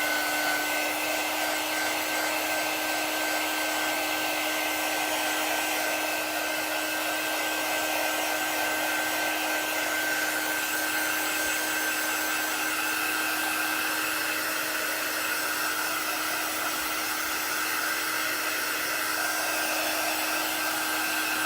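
A hair dryer blows steadily to dry chalk paste on a snowman craft project, making a loud, close, continuous whine and rush of air with no pauses for over twenty seconds.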